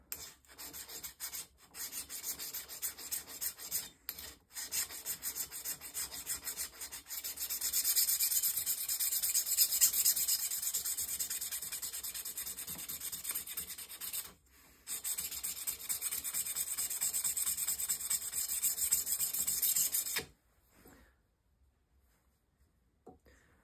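Steady abrasive rubbing of a Stubai or TwoCherries drawknife blade against a sharpening stone, continuous scraping strokes with brief pauses, growing louder midway, then stopping near the end.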